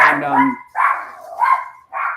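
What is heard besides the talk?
dog barking and doorbell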